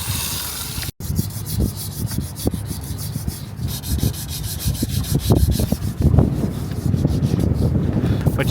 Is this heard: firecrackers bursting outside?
no